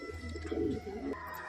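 Pigeons coo close by in soft, low rolling phrases that swell and fade through a short stretch, with faint chirps behind and no talking.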